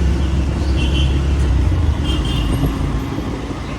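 Road traffic and engine rumble heard from a moving motorbike form a loud, continuous low roar with steady wind-like noise and no distinct horns or voices.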